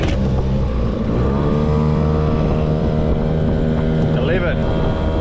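A solar-powered boat with an electric outboard motor runs steadily on a river, a close, continuous tonal hum with a faint whine shifting slightly near the end.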